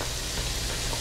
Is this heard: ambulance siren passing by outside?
no